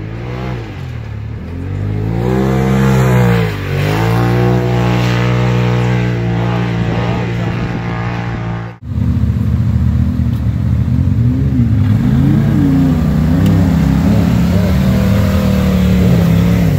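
Revving engine of a new, stock 2019 Polaris RZR Turbo S side-by-side during belt break-in, loud and close, rising and falling in pitch, cutting off sharply partway through before a lower, steady engine drone resumes.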